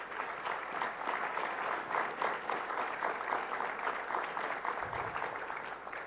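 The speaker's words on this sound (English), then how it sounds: "Let's give them a big round of applause." Audience at an award ceremony applauding steadily for the full stretch, a dense, even wash of many hands clapping with a faint low thump near the end.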